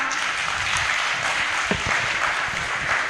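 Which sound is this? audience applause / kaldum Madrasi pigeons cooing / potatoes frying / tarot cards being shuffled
audience applause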